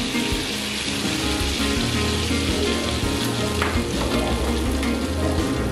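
A bay leaf, lightly cracked green cardamom pods and a piece of cinnamon sizzle in hot fat over a medium gas flame for Punjabi dal makhani, a loud, steady, close crackling fry with light stirring.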